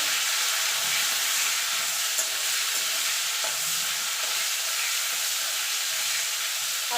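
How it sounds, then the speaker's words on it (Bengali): Prawns lightly frying in a pan, a bright, steady hiss of hot oil with faint stirring knocks, close and unbroken throughout, with no voices. "চিংড়ি মাছটাকে একটুখানি হালকা করে ভেজে নেব"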